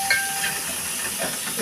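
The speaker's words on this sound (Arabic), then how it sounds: "هوريكم البتنجان وهو بيتقلي" Eggplant slices fry in hot oil for moussaka, giving a steady, close sizzling hiss with a few brief crackles and no talking.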